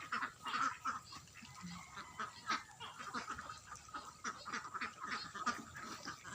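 Muscovy ducks on a farm, a flock giving repeated soft honking quacks and hissy calls at close to middle distance, overlapping in an irregular chatter.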